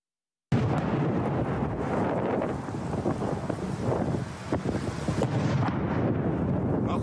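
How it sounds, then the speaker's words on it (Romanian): Continuous heavy rumbling booms and blasts from shelling in central Donetsk on Pushkin Boulevard, loud and sustained with wind buffeting the microphone throughout. "Продолжаются взрывы. Черный дым пошел."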